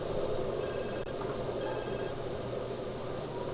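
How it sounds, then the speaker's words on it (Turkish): A phone rings in the video game Grand Theft Auto San Andreas, giving two short, fairly faint ringing tones about half a second apart over a muffled background hum. "Aç telefonu. Telefonunu aç."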